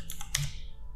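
Quick keystrokes on a computer keyboard, a few soft taps in a brief burst, close and quiet with no talking.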